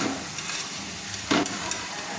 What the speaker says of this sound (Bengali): তেল থেকে পকোড়িগুলো আমি ছেঁকে নিচ্ছি